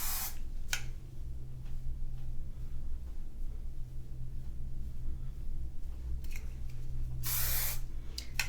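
Hairspray sprayed onto mature hair while styling for volume, a steady close aerosol hiss running almost the whole time, with a few short bursts of brighter spray near the start and end.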